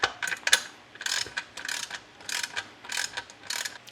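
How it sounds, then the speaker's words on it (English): A hand ratchet clicks in quick bursts while tightening a 17mm bolt on an LED light pod mount, several close, sharp ratcheting strokes separated by short pauses, no voices. "It looks like a 17, so therefore we'll use a ratchet."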